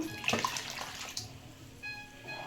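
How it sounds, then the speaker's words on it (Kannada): Water splashes and pours briefly into a pot, then trails off into a quieter running trickle. "ಈಗ ಎಷ್ಟು ಬೇಕೋ ಅಷ್ಟು ನೀರು ಹಾಕ್ಕೊಳ್ಳಿ"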